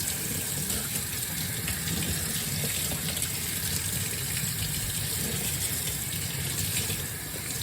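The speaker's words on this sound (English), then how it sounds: "now we're just gonna rinse it. And I try to make sure it's about the same temperature" Tap water running steadily to rinse yarn dyed with mushrooms, a loud constant gushing and splashing close by, with no talk.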